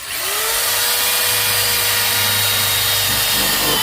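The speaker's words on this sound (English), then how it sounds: "we're going to just drill a hole as close to the bottom as possible" A power drill bores a hole near the bottom of a plastic container being made into a cheap DIY chicken or pigeon feeder, a steady close, loud whine running continuously for several seconds after spinning up.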